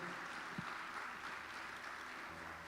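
A church congregation keeps clapping through a worship service, a continuous faint patter of many hands from across the room, with one brief low thump partway through.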